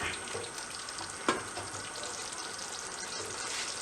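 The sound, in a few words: pork frying in oil on low flame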